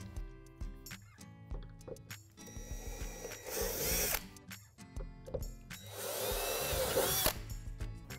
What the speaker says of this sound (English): On the right wall panel, we're going to drill out 2 divots underneath the opening.